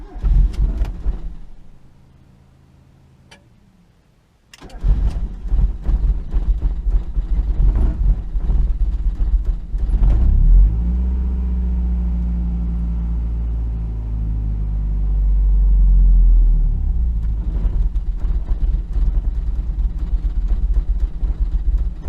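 A Mazda Miata engine cranks and catches after a quiet pause, then settles into a loud, close, rough idle. The rumble is steady, with a slow swell partway through.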